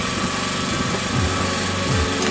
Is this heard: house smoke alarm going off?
no